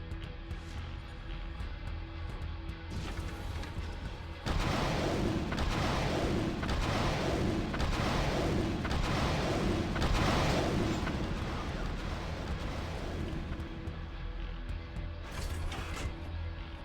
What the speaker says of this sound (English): Another notable mid-range weapon used on the Ao Guang is the Hydra rocket launcher.